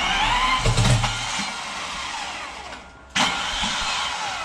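A starter motor cranks the rebuilt Traction V12 bi-turbo engine, a loud close mechanical whir that drops away for a moment before a second burst of cranking starts abruptly.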